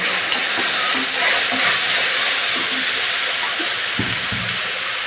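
Spinach being sautéed in a pan, a loud steady sizzling hiss that continues throughout, with a few soft knocks underneath.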